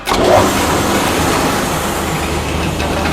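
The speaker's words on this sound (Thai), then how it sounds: "ปรับสวิตช์มาฝั่งสีข้าวค่ะ" A Pro Max rice milling machine starts up with a loud, steady mechanical engine-like roar that swells in the first half second and then holds a constant hum, with no talking.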